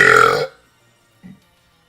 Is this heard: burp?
yes